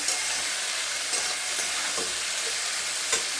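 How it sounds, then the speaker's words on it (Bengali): Salted ridge gourd slices frying in a pan give a steady close sizzle, with a few soft stirring scrapes and clicks breaking through the constant hiss. "এটা একটু ভাজা হবে।"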